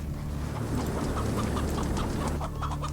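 A chicken clucking in the video game ATOM RPG Trudograd: a run of short, repeated clucks over a steady low hum of game ambience.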